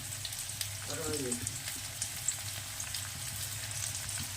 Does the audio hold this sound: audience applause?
no